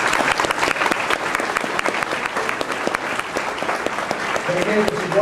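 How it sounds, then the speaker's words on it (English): Audience applause at an evening SOLVE Spartanburg rally, steady dense clapping from a crowd lasting throughout, with some voices mixed in. "give them a big round of applause."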